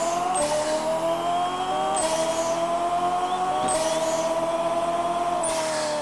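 Synthesized engine tones from a Pixel Car Racer drag race climb and drop in repeated gear shifts, each rising whine cut by a shift roughly every second and a half, loud and continuous with no talking.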